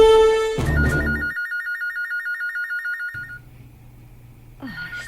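A cellphone ringtone trills in a rapid warbling electronic pattern for a couple of seconds, loud and close, preceded by a brief burst of music and followed by low background hum before the ringing resumes.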